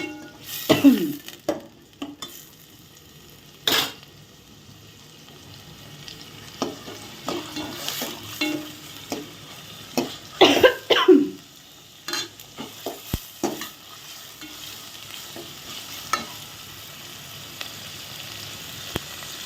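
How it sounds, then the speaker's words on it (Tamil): Onions sautéing in a pan, a soft continuous sizzle broken by intermittent scrapes and clinks of a spoon stirring against the metal, close by and without speech. "வெங்காயம் நல்லா வதங்கட்டும்"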